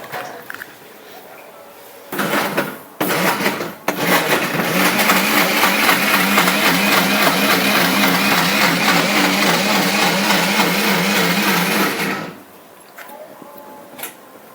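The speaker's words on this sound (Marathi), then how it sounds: "त्याला फिरून घ्या मिक्सरमध्ये" A mixer grinder blends banana and dates into juice, its motor whirring loudly and steadily for about eight seconds after a few short bursts, then stopping, with faint background noise around it.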